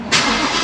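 An S550 Ford Mustang engine warm start: it fires up abruptly and settles into a loud, rumbling idle, heard close and alone.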